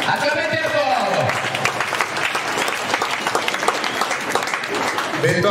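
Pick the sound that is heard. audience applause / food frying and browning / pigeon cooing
audience applause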